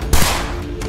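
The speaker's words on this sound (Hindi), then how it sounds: "तभी गोली चली।" Gunfire at a Trump rally in Butler, Pennsylvania: a sharp, loud crack bursts out after a short pause, followed by echoing crowd noise and a second burst near the end.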